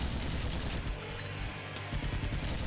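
Machine gun fire in the video game Iji, a dense, continuous clatter of rapid shots that fills the whole moment loudly, with no voices over it.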